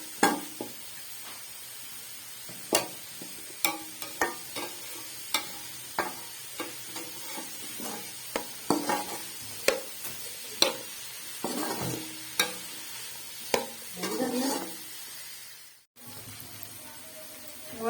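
Chopped capsicum, with the seeds and pulp removed, fries in a pan for pasta, giving a quiet, steady sizzle broken by regular clinks and scrapes of a spoon stirring against the pan.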